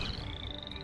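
Frogs croak in the artillery video game ShellShock Live, a brief high trilling call set against a low rumbling game backdrop, close and fairly loud, with no voices.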